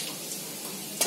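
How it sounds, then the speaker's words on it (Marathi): Green beans fry in hot oil with a dense, bright sizzle and a stirring scrape, close up and steady through a short moment, ending in a sharper clatter; no voices. "तेलात शेंगा फ्राय करून घेते."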